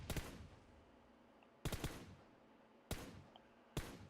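Gunfire in the mobile battle-royale game PUBG Mobile: four short separate bursts of automatic fire, each a quick crackle of shots at irregular intervals, with quiet gaps between them.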